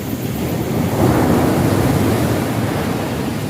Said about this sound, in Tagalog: Malakas ang hangin, no?